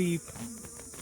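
Honeybees buzz at a backyard hive where a pollen patty sits between brood boxes, a steady close insect drone lasting about a second, strongest at the very start.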